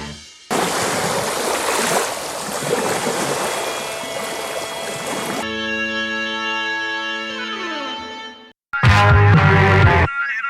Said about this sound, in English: We're going to play the jingle we didn't play as well